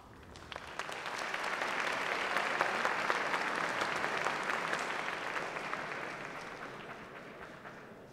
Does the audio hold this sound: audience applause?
yes